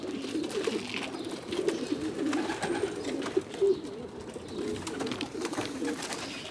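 Racing pigeons cooing in a loft, a dense, continuous murmur of low, throaty coos from many birds nearby, with occasional wing flutters and scuffles.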